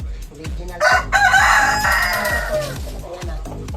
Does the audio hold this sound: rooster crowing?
yes